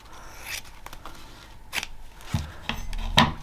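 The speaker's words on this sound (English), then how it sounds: "I'll measure it off camera and then I'll cut it on camera." Scissors cutting through sari silk ribbon, giving a few close, crisp snips and rasping blade strokes, with light rustling and handling of paper between the cuts.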